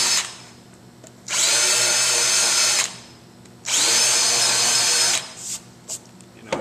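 A power drill cuts a countersink into the top of a solid wood longboard deck, sounding in two loud, steady bursts of about one and a half seconds each, with a brief quieter gap between them and no talking.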